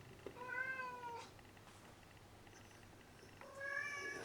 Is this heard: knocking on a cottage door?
no